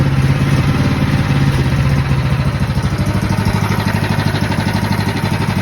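A pull-started engine idles loudly and close by, a rapid, even chugging pulse with a slight clattery edge that holds steady throughout.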